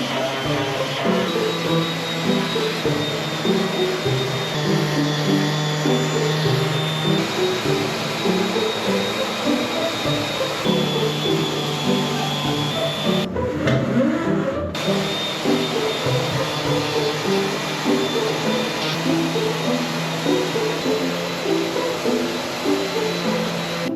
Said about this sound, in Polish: zabieramy się za szlifowanką. Odkurzacz już przygotowałem